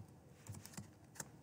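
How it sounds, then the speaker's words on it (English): Typing on a computer keyboard: a short run of quiet, scattered key clicks with one sharper tap near the end, faint and with no voices. "I'm going to just type a couple lines of text"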